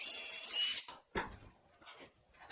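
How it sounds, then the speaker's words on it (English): A power drill pre-drilling holes into wooden planter box legs gives a steady, close whirring burst of nearly a second, then stops, followed by a few scattered rubbing and handling sounds of wood and tool. "I'll pre-drill holes so they can screw right into the legs."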